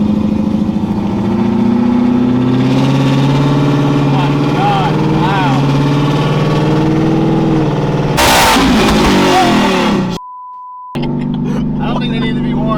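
A Whipple-supercharged Gen 3 Coyote 5.0 V8 in a Ford F-150 with a 10-speed revs hard and loud, holding a steady roar before a sharp burst near the end, with people talking and exclaiming over it.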